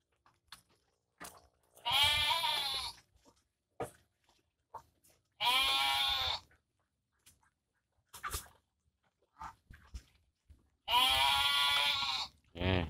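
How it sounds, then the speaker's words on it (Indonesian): Goats being fed guava on a farm bleat in three long, loud calls spaced several seconds apart, with small clicks and shuffling noises between them. "Kambing makan jambu, saking sayangnya ke kambing sahabat."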